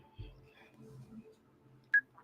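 A telephone dialing to call someone gives a single brief, bright tone near the end, after faint low murmurs of voices.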